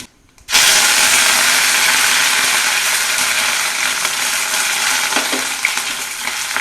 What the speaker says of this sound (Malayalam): വേപ്പില ഇടുക.